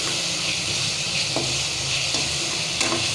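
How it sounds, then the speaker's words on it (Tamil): Steady sizzling of green chili sautéing in hot oil for fish gravy, with a few faint stirring clicks, close and continuous. "நல்லா வதக்குங்க."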